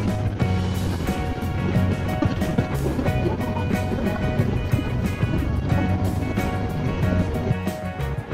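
Broadband water rush and churning engine drone from a cruise boat on the Chao Phraya River in Thailand, steady and fairly loud throughout with no talking.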